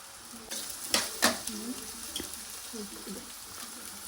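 Capsicum, carrot and beans are stir-fried for gobi fried rice, with a soft, steady sizzle and a few sharp scrapes and clinks of a utensil against the pan.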